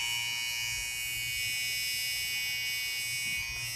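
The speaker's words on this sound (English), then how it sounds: "This is the facial shaver. You can see it's flexible. Let me turn it on." A BESTOPE electric facial shaver runs with a steady, even buzz and a low motor hum, close and continuous throughout with no talking.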